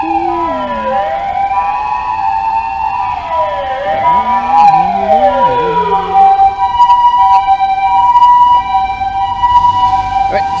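An ambulance siren wails loudly, sweeping up and down in pitch as it passes close by, over steady road and wind noise on a hilly route in Japan.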